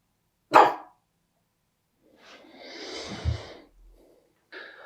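Dog indoors giving one sharp bark, then a stretch of breathy snorting and wheezing, ending with a brief soft huff; quiet, close, and with no talk.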